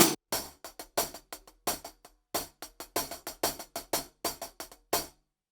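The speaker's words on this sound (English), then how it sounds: "Whereas a dynamic mic on a hi-hat just sits right" Hi-hat close-miked with a dynamic microphone, played in a steady groove of crisp, bright, short chicks and occasional looser open hits, dry and close, with no voices.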